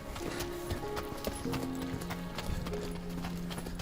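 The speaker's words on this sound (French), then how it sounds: "C'est un cheval qui est attachant" A calm horse's hooves clip-clop in a steady, moderately close rhythm over a continuous tonal background.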